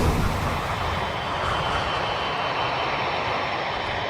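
Damaged, overweight Boeing 747 on final approach to Honolulu on two engines, a dense steady roar of jet engines and rushing air, loud and unbroken throughout.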